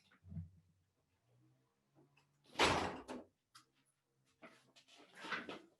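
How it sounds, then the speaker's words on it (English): An indoor door is closed with a sharp, loud bang close by. Quieter scrapes and handling noises come before it, and further knocks and rattles follow. "I'm going to close the door."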